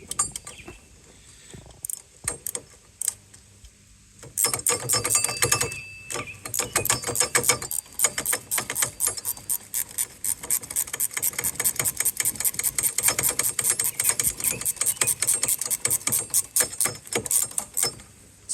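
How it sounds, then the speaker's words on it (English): Rapid, continuous ratcheting clicks from a wrench tightening bolts on a jet ski dock, starting after a few scattered clicks and then running steadily and close for most of the stretch. "a ratcheting wrench makes things fast and easy"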